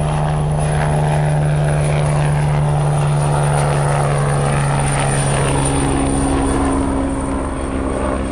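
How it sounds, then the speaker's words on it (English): A helicopter's steady rotor drone and engine whine fill the scene, loud and constant throughout, with no voices. "We're dispatching a helicopter to your current location."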